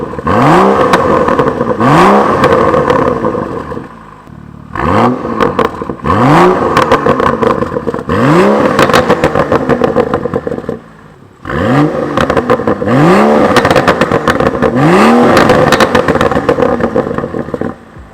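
A BMW M235i with a Milltek exhaust revs hard in repeated bursts, each climbing then dropping, loud and close with brief pauses between runs.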